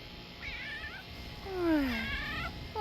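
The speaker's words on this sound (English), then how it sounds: "I spy a kitty." A cat meows several times in a garden, with short rising and falling calls followed by a longer, louder drawn-out meow, close to the microphone over a quiet outdoor background.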